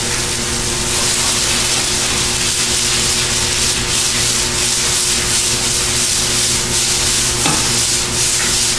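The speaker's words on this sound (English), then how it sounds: "And we're just going to fry this off" Chicken breast seasoned with Chinese five-spice fries in a pan for a stir-fry soup, giving a loud, steady, close sizzle that runs unbroken throughout with no talking.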